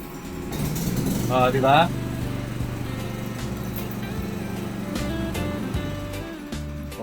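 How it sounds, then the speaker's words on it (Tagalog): A Philippine 4200 inverter silent generator runs steadily with a low, even engine hum throughout, a person speaking briefly over it near the start. "ito yung ating Philippine 4200 inverter silent generator"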